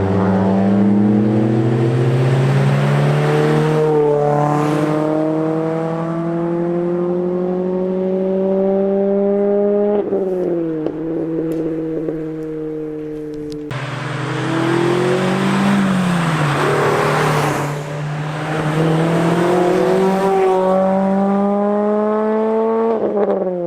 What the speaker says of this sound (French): c'est parti pour l'essai routier avec Mathis.